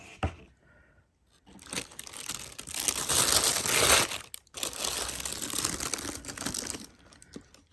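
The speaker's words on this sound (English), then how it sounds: "So are we ready for some rustling?" Packaging of newly delivered shoes from a Black Friday order crinkles and rustles up close, in loud bursts with brief pauses, and no talking.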